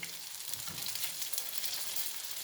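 Courgette fritters frying in a pan give a steady, close sizzle and crackle of hot oil throughout, with no talk.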